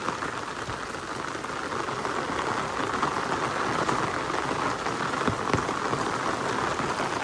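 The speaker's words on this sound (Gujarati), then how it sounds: "બરાબર ફર્સ્ટ ક્લાસ વરસાદ ચાલુ છે" Heavy rain pours steadily, a dense, even hiss of drops striking the ground and flowing water, loud and continuous without a break.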